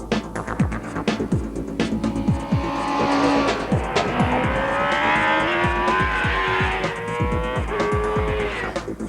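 A 2002 Suzuki GSX-R 600 superbike engine screams through repeated rising revs toward its limiter, with sharp gear-change drops and a sustained high wail in the middle, loud and close, with no talking.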